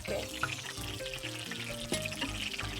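Food fries in a pan with a soft sizzling crackle and a few stirring clinks, fairly quiet and close, with faint background murmur.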